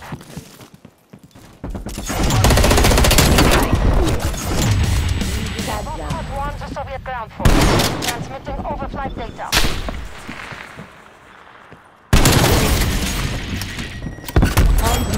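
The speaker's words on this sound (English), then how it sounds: "Artillery strike." An artillery strike pounds down in a Call of Duty: Cold War match, with loud, heavy booms and rolling bursts of gunfire that come in several long waves separated by brief lulls.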